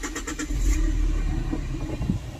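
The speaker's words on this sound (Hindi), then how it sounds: "गाड़ी स्टार्ट कर दी मैं" A car engine starting and settling into a low, steady idle rumble close by, with no one talking.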